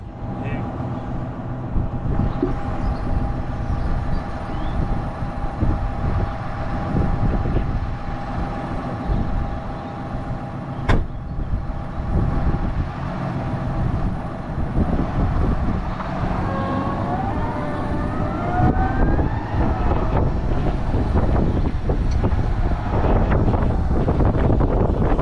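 A tractor's hydraulics jacking up a muck trailer to tip, a steady loud engine drone with rising whining tones and wind buffeting the microphone, close and continuous, with someone talking at times.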